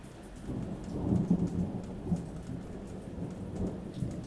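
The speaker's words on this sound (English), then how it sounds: "Stormy, much rain." Steady heavy rain hisses throughout, with low thunder rumbling and rolling beneath it, swelling in a few places.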